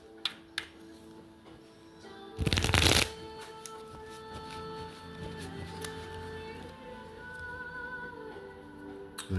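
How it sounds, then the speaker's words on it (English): Tarot cards are shuffled in one brief, loud riffle burst partway through, set against a quiet, steady room hum with a few faint ticks. "anything else, Divine, while I'm shuffling the cards here?"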